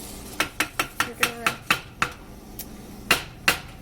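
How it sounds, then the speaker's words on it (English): A spoon clinks and scrapes around a pot of Oreo truffle mixture, a series of sharp, close metallic taps in an uneven rhythm, loud at first and then thinning out. "Make sure you continue stirring it just because we don't want it to burn or anything."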